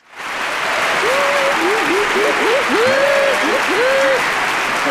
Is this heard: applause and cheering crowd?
yes